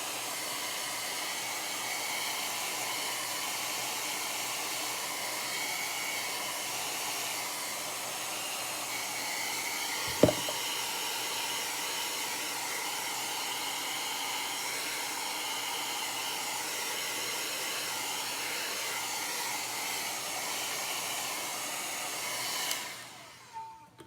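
A hair dryer blows a steady, loud whooshing hiss over chalk paste on a silkscreen, running continuously with one brief knock partway through before shutting off at the end.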